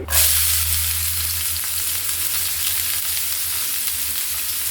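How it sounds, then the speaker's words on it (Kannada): Chopped onions fry in hot oil in a pan for a simple cauliflower palya, giving a loud, continuous close sizzle throughout with no voices. "ಸಿಮ್ಮಲ್ಲಿ ಇಟ್ಕೊಂಡು ನಾವು ಫ್ರೈ ಮಾಡಬೇಕಾಗ್ತದೆ ಈರುಳ್ಳಿ ನೋಡಿ ಚೆನ್ನಾಗಿ ಫ್ರೈ ಮಾಡಬೇಕು"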